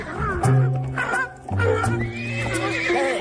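A horse neighs loudly several times in quick succession, close and shrill with wavering pitch, with a few hoof clops underneath.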